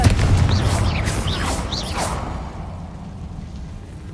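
A Confringo blasting spell in Hogwarts Legacy goes off as a loud boom with whooshing streaks, then decays into a fading rumble.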